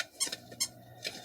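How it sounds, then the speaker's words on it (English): A dog chews a small plush lamb chop toy, giving three short high squeaks spaced out over about a second against a quiet room. "she's just playing with her little lamb chop toy"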